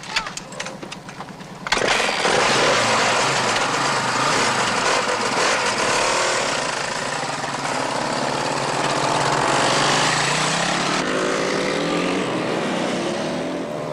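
Local bikies' motorcycles ride through Broken Hill, engines rumbling loudly and steadily after a brief opening, holding a continuous close drone that shifts slightly in pitch as they move.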